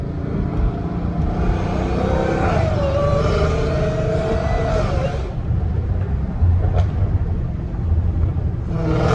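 Loud, steady rumble of a Dodge Challenger Hellcat Redeye's exhaust with a leak somewhere underneath the car, heard from inside while driving, a rising note from an engine pulling midway, then continuous drone.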